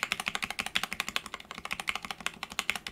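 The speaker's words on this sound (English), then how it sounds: "this enter key," A mechanical keyboard enter key on plate-mounted Durock V2 stabilizers without modifications is pressed rapidly over and over, producing a steady stream of sharp, close clacks with a slightly rattly ring, alone without speech.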